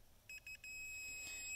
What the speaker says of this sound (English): you'll kind of hear that beep, and it'll give you a live reading of your ohms